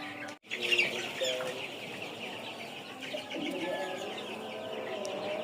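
Dense chorus of fifteen-day-old coloured chicks cheeping continuously in a crowded poultry shed, with occasional louder clucks and a brief thump near the start.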